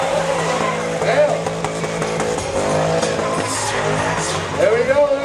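Cadillac CTS-V doing a burnout at the Dropfest '08 car show, engine revving hard with squealing, wavering tire screech, loud and close, while crowd voices and talk run underneath.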